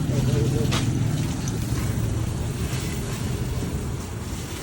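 Strong water spray from a hose aimed at a filter: a continuous rushing hiss, loud and close, that eases off slightly toward the end while people talk over it.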